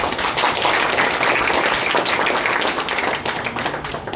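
An audience claps for a library teacher's parents, a dense, loud burst of applause that holds steady for a few seconds and only slightly thins toward the end.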